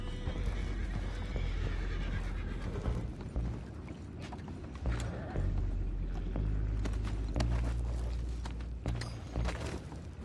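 Horses whinny and snort amid clopping hooves and clattering mechanical noises in the video game Red Dead Redemption 2, busy and close, with no clear talk.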